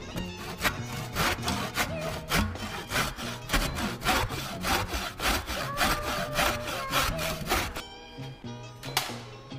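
A Japanese pull saw cutting through wood in steady, rhythmic strokes, cutting on the pull, close and continuous for most of the clip before stopping near the end.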